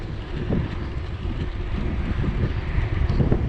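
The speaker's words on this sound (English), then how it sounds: "Hear the nature, the wind, the tires singing." Bicycle tires rolling on a road during a long ride near Pine Mountain, Georgia, a steady low rumble mixed with wind buffeting the microphone, continuous and close.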